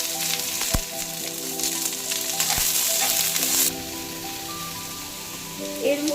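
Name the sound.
onions frying in oil with bay leaf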